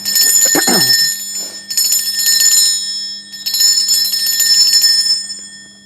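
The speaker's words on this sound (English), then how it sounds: "I will be ringing this bell." A bell rings repeatedly in a space-cleansing ritual, bright sustained metallic tones in three long bursts that shimmer and fade, loud and close, after a brief soft knock at the start.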